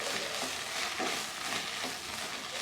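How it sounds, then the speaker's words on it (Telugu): Drumstick leaves and toor dal tempering fry in hot oil in a pan, giving a steady close hiss of sizzling with soft stirring swishes throughout. "ఇప్పుడు మనం దీన్ని బాగా ఫ్రై చేసుకోవాలండి"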